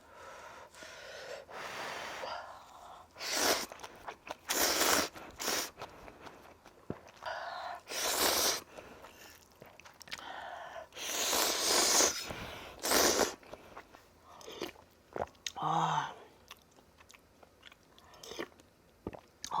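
Crunchy green onion kimchi (pa-kimchi) chewed up close during a meal of giant Wang Ttukkeong cup noodles, with bursts of crisp bites, wet mastication and sharp breaths coming in uneven clusters, no talking.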